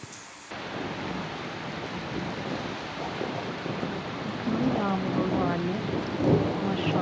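Rain falls steadily on potted succulent plants in a thunderstorm, a dense hiss that swells louder toward the end with low rumbling underneath, and no clear voices over it.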